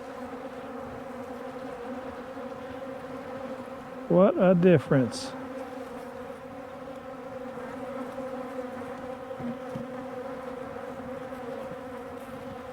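Calm honey bees buzz at a backyard hive during feeding, a steady low droning hum that fills the whole stretch, with a brief spoken remark partway through.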